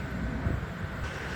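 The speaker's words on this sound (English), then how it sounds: "Excuse the background noise out the driveway and traffic." Steady broadband traffic rumble from a nearby street, heard from a driveway while someone works on a 2010 Chevrolet Aveo; a continuous low roar with no distinct passes.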